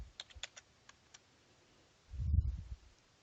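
A few light keystrokes tap on a computer keyboard early on, sparse and quiet, followed by a brief low thump and then near silence.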